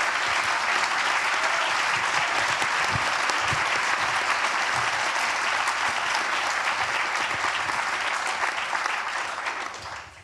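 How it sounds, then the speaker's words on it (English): Sustained audience applause at the Kofi Annan Geneva Peace Address during Geneva Peace Week, a dense, loud wash of clapping from a large crowd that holds steady for about ten seconds and tapers slightly at the end. "round of applause"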